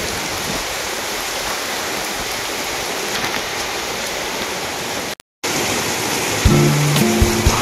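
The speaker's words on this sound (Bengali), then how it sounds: "কি জোর বৃষ্টি পড়ছে দেখো" Heavy rain pouring down at night, a dense, loud, steady hiss of water with no pauses except a brief dropout near the end, followed by a few low thumps.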